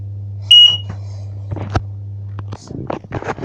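A home smoke alarm gives one sharp, high piercing beep during a test, over a steady low electrical hum, followed by some handling noises and brief talk.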